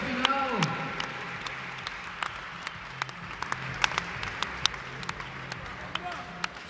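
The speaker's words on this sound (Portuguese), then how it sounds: "Uma salva de palmas!" Applause from the crowd at a fitness competition final, scattered sharp claps over steady crowd noise with voices talking underneath, moderately loud and continuous.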